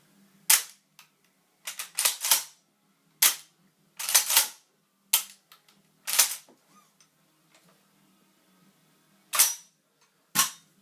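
A CZ 912 shotgun loaded with snap caps being dry fired and worked, sharp metallic clicks and clacks in irregular single hits and short clusters, close and crisp against near silence, no talking.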